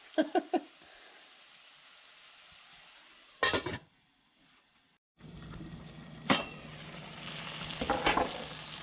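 Rabbit cacciatore simmers in a pot with a low, steady bubbling hiss, broken by clatters of a lid and utensil, a brief silence, then louder sizzling.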